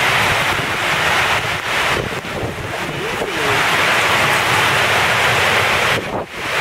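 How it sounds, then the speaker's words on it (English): Ocean waves and strong wind during Hurricane Paul at Cabo give a loud, continuous roar of surf with heavy gusts buffeting the microphone, with brief faint voices amid the din. "That's the ocean out there,"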